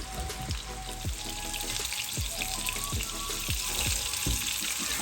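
Seekh kebabs fry in oil in a pan on low heat, a loud, dense, continuous sizzle with popping crackles throughout, close and without voices.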